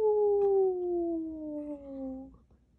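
Children's voices imitate a dog howling together, one sustained gliding howl that slowly falls in pitch over about two seconds and then stops, with a brief onset at the start.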